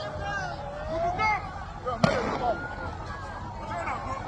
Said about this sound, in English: They're firing us tear gas.